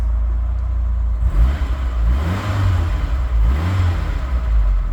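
A Ford Pinto engine in an unrestored 1981 Mk5 Cortina 1.6 L idles low and steady, rising twice into brief revs before settling back, close by with no talking.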